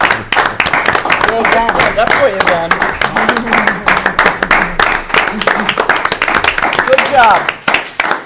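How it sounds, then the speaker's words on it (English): People at a school committee meeting clap together in a sustained, fairly loud patter while several voices call out praise over it. "Can we give him a round of applause for that?"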